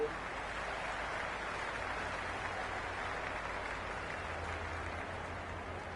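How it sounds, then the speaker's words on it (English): Stadium crowd at an IPL cricket match in a video game, a dense continuous roar of cheering and applause-like hiss with a low hum beneath, steady and moderately loud without clear speech. "already the crowd making a hell of a racket"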